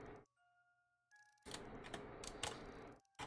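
Mechanical keys clatter in a short burst of quick, close clicks, preceded by a brief low hum and faint tones.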